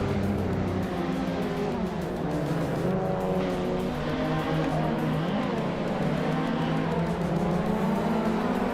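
Race cars in a racing video game roar at close range, with engines revving steadily and shifting pitch throughout and brief tire squeals among the continuous loud motor drone.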